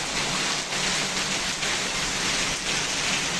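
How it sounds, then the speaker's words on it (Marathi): Heavy rain pours down on Miraj village in a dense, steady roar, loud and close, with no pauses, amid strong wind. "मुसळधार पाऊस पडायला आहे"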